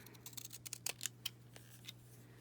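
Scissors trimming paper around a stamp edge, a quick series of faint, close snips and crisp cuts over a low steady background hum.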